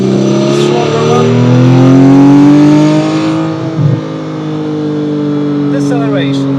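A Porsche Cayman GT3 with a PDK dual-clutch gearbox pulls hard, its engine note climbing steadily in pitch for a few seconds before easing off, loud and close, with a brief mechanical clunk midway.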